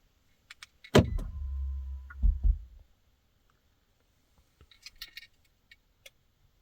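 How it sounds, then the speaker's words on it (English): A Kia Stinger is locked: a sharp click and jangle, then a low mechanical whir lasting about a second, a second thunk, and later a few faint clicks and light rattles in near silence. "So let's lock the car and we'll watch it turn off."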